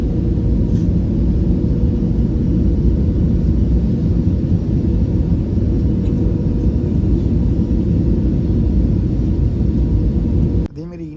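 An airplane landing at Taipei airport in Taiwan, heard from inside the cabin as a loud, steady low roar of engines and rushing air that holds throughout and drops off abruptly near the end.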